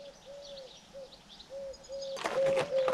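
Pigeon cooing in soft, repeated phrases at a moderate distance, joined near the end by a louder burst of fluttering or rustling noise.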